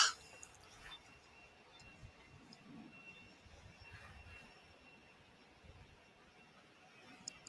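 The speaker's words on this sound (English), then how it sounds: "It's a 701ER on its way to Oklahoma City" An 18-year-old jet airliner heads north toward Oklahoma City, a faint, distant engine roar over a low outdoor rumble, steady and quiet with a small thump at the start.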